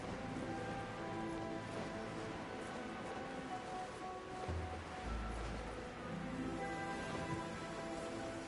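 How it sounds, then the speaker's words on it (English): Rain falls steadily in the Genshin Impact video game, a soft continuous patter of drops under faint game music, with a couple of low thuds near the middle. "When stuck on a deserted island, rain is a precious source of drinking water."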